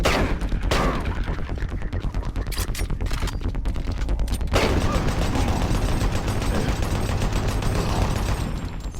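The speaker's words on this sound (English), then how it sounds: "I like this chain gun because the bullets are so powerful" Rapid chain gun fire from the video game Doom 3 rattles on almost without a break, loud and dense, with a few short pauses early on before a long continuous burst.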